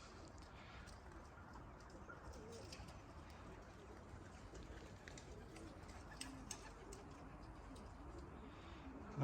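Racing pigeons on their first-ever release flight, with soft cooing and bird calls over a steady outdoor noise bed, no distinct wingbeats standing out.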